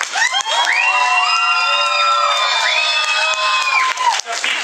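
A school event audience cheers loudly, with many children's voices whooping and shouting in long, rising and falling calls. The cheering is close and sustained, with little clapping audible.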